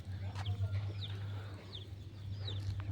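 Chickens in a tribal village cluck in a few short, repeated calls at moderate distance over a steady low hum and faint outdoor background.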